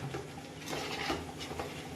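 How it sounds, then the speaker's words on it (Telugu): Chili powder being stirred into a biryani mixture in a pot, a steady scraping and shuffling of spoon against metal with soft clinks, close and fairly quiet throughout. "బాగా కలిసేటట్టు మిక్స్ చేసుకుందాం."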